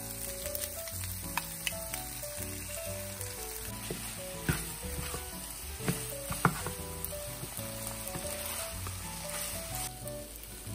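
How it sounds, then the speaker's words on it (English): Pad thai noodles with fried shrimp and sauce sizzling in a hot pan, a loud steady frying hiss with occasional sharper pops and stirring clatters, close and without talk. "Then add the fried shrimp and the rest of the sauce."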